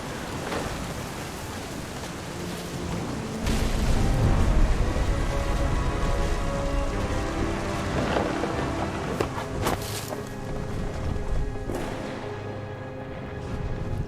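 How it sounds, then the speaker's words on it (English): A thunderstorm in the video game What Remains of Edith Finch: steady heavy rain hisses throughout while deep thunder rumbles swell and crack nearby, with no voices. "Thunder sounded much too close and full of angry power."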